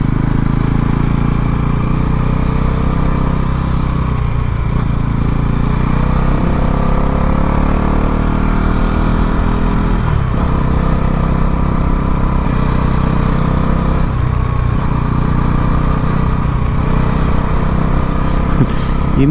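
A motorcycle ridden along a road, its engine droning steadily and loudly up close with rises and dips in pitch as the throttle changes, wind rush underneath, and no talk.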